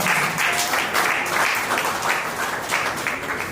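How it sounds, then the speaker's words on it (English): An audience applauding Prince Malik Ado Ibrahim at a Nigerian Union of Journalists event, with steady, dense clapping from a roomful of people that holds for a few seconds and fades slightly at the end. "I think he deserves a round of applause at this point."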